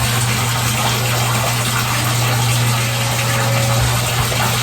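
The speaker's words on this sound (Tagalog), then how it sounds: "Maglalagay lang ako ng tubig" Water gushes steadily and loudly into a container at home, a continuous dense rushing with a low pump-like hum underneath and no pauses.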